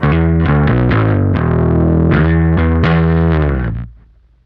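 A Squier Classic Vibe Precision Bass played clean through a pedal and amp: a run of sustained, round bass notes that flow into one another before the last note rings out and fades away.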